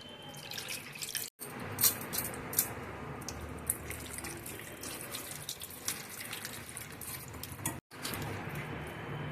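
Tamarind juice is poured into a spicy Andhra fish curry with soft liquid splashes and trickles. Faint drips and clinks are heard close by in a quiet kitchen.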